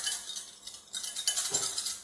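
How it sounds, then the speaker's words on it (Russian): A fork or whisk clinks rapidly against a bowl, mixing in salt until it dissolves, in a quick, light rhythm, close up and fairly quiet. "Вилкой или венчиком хорошенько все перемешиваем"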